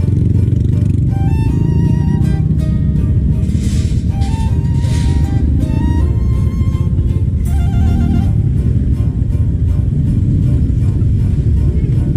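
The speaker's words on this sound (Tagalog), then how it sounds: "Tricycle at motor ang ginamit namin papuntang Stanza." Tricycle and motorcycle ride toward a beach in Lingayen, Pangasinan: a loud, steady engine rumble with road noise runs continuously throughout, overlaid with music.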